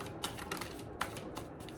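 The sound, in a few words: tarot cards being shuffled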